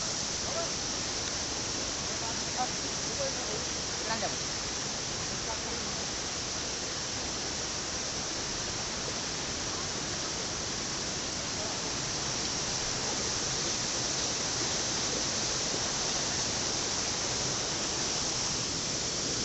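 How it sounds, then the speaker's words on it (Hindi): A steady, dense rush of falling water from a hidden waterfall near Dhamtari and Kanker, India, fills the whole stretch, loud and unbroken, with no talking over it. "हिडन वाटरफॉल भाई मस्त जगह"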